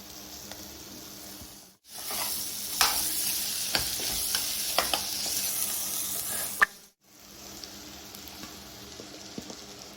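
Tomatoes are stirred into a sizzling pan of mushroom egg gravy, a steady frying hiss with scraping spoon strokes and sharp crackles, interrupted by two brief pauses.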